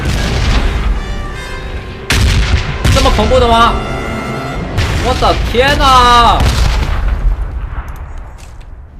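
Artillery shells and explosions boom repeatedly in a bombing zone in the battle royale game PUBG, loud and close on both sides, while a player shouts and exclaims over the blasts.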